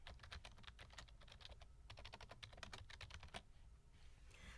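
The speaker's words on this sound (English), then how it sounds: "So I'm going to go ahead and type the title of my paper now." Fingers type a paper title on a computer keyboard, a rapid, irregular run of sharp key clicks with brief pauses, close and clear with no talk.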